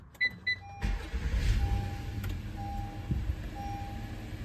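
A Honda car gives a couple of quick dashboard chimes, then its engine cranks briefly and catches, settling into a quiet, steady idle.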